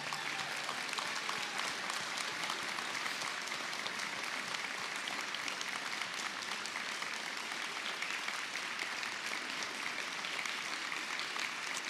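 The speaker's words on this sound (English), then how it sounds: "They, at the very least, deserve that applause." Steady, sustained applause from a large commencement audience honoring standing faculty at Post University's 2019 ceremony, an even wash of many hands clapping throughout with no pauses.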